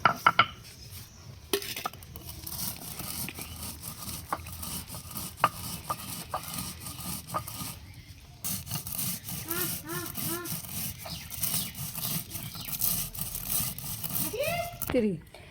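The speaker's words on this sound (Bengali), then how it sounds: "এইরকম করে বেটে নিচ্ছি, এইরকম করে রাখতে হবে" Warm, freshly roasted spices are ground by hand on a grinding stone for mango pickle, giving repeated rough scraping and rubbing strokes. The strokes are fairly soft and come in uneven runs with short pauses and a few clinks.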